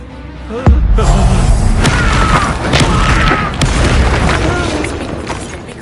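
A Bombarda spell explosion in the Hogwarts Legacy video game lands as a sudden loud blast, followed by crackling debris and rumbling, with a voice speaking over the aftermath.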